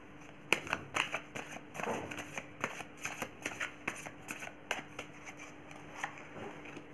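Tarot cards being shuffled by hand for a pick-a-pile reading: soft, close riffles and irregular papery flicks and taps repeating over several seconds, with no voice.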